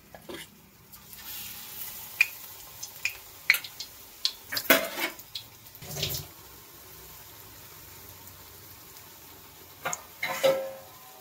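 Ajwain leaf fritters (bajji) frying in hot oil in a kadai, heard as a low bubbling hiss broken by sharp clinks and splashy bursts as batter-coated leaves drop in, with quiet gaps between.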